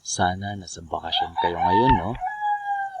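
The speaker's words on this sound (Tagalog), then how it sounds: "Pagpasensya niyo na yung tunog ng manok." A rooster crows nearby while a person talks over it, the drawn-out call trailing on alone after the speech ends.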